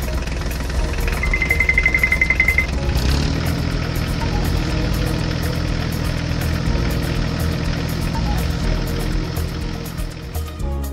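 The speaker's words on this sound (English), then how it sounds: "the forage harvester and tractor arrive at the cornfield" Tractor and forage harvester engines running at a cornfield during harvest, a loud, steady low diesel drone with a brief high whine early on, continuous and close.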